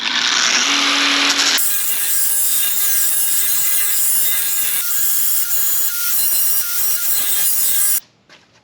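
A power grinder screams against the deck lid edge of a Firebird to trim the panel gap. The harsh, high, continuous grinding holds close and loud for about eight seconds, then cuts off abruptly.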